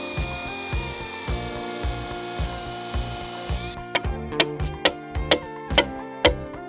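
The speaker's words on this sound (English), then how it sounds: "I'm gonna drill my holes, throw my stakes in" Power drill boring holes for stakes while building outdoor stair steps, first a steady whirring drone with rhythmic pulses, then sharp repeated clicking knocks as the bit works, close and alone without talk.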